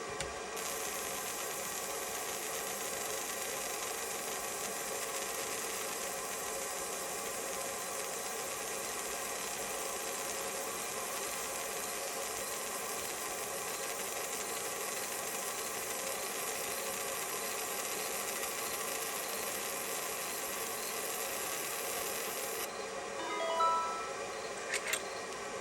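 Monport fiber laser engraving a logo, a steady faint hum and hiss running unbroken for a long stretch before shifting slightly near the end, no speech.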